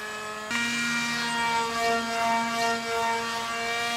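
An RC model Alpha Jet's electric motor whines steadily in flight, its pitch jumping up sharply as throttle is added and then holding a loud, sustained tone with slight wavering.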